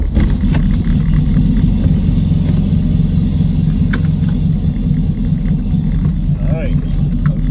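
A big-turbo, front-wheel-drive Nissan Altima drives along with a steady, loud engine rumble that stays continuous throughout, with voices inside the car.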